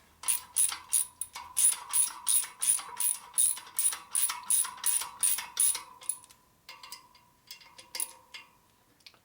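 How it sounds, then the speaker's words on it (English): A wrench ratchets while tightening a bolt on a custom Harley chopper, giving a rapid regular series of close metallic clicks for about six seconds, then a few slower, fainter strokes. "Put your wrench down on it and then tighten it up."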